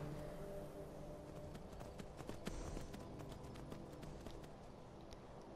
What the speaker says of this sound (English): I'm just gonna take my horse.